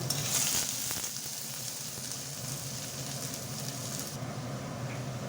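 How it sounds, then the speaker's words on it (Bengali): Onion and garlic frying in a pan, a steady close sizzle with soft crackle that holds evenly throughout, no voices. "পেঁয়াজ রসুনটা লাল লাল করে ভেজে নিছি"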